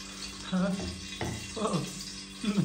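Hot oil crackles and sizzles as spices are tempered for chole, with stirring and a faint voice murmuring underneath.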